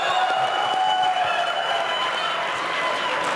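Applause and cheering from an audience for contestants at a design competition webcast, a steady dense clatter of clapping sustained at even loudness from start to finish.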